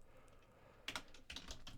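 Typing on a computer keyboard: a faint quiet stretch, then a few quick clusters of soft key clicks close to the microphone.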